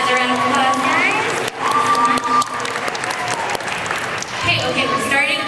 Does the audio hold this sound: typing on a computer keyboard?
no